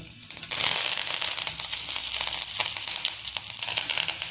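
Cumin seeds, chana dal and curry leaves drop into hot oil for a Madurai-style tempering, setting off a loud, steady crackling sizzle that jumps up suddenly and then holds with sharp popping throughout.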